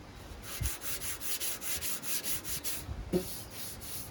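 A hand rubs back and forth across the painted body of a lawn mower, a rhythmic series of soft, close swishing strokes, about a dozen in quick succession, with a couple of light knocks.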